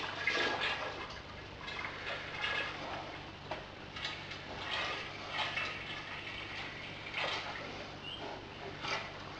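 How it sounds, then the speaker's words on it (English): Chocolate ginger stout homebrew mix poured into a fermenter, a steady rushing, splashing liquid stream running continuously at close range, with no talking over it. "And we'll pour our mix in,"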